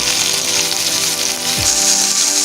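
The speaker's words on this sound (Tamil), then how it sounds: "ஒரு பேனில் ஆயில் சூடானதும் கடுகு போட்டு பொரிச்சுக்குங்க" Mustard seeds spluttering in hot oil in a pan while making mango pachadi, a steady crackling sizzle with dense, rapid pops throughout.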